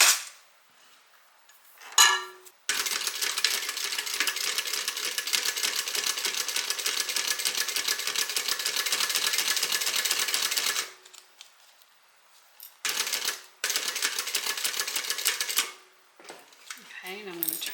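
A sewing machine stitches a strap for a wallet being converted into a crossbody bag, running in a long steady burst of rapid clattering, then pausing and restarting in shorter runs, close and loud with no talking.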